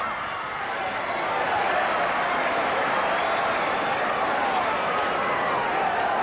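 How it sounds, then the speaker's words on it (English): An Australian football crowd roars steadily behind its team during a 1981 World Youth Championship match against Cameroon, a broad continuous wash of stadium noise heard from a distance, unbroken and even throughout. "here's the Australian crowd here right behind the team now, urging them on"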